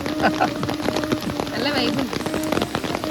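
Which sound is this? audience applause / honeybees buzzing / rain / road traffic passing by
rain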